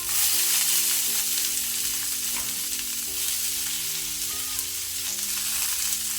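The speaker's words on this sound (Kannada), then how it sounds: "ಈಗ ನಾನು 1 ಈರುಳ್ಳಿ ಹಾಕ್ಕೊಳ್ತೇನೆ, ಆನಿಯನ್." Sliced onion frying with urad dal in a pan over low to medium flame, a steady close sizzle with faint stirring scrapes throughout and no voices.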